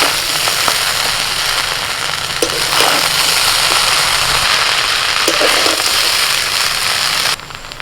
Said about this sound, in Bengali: এবার দিয়ে দিচ্ছি শেজওয়ান সস আস্তে আস্তে ভালো করে মিশিয়ে নিই